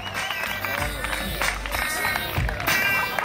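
A crowd claps and cheers at a freestyle rap battle, with lively applause throughout under a voice and scattered shouts.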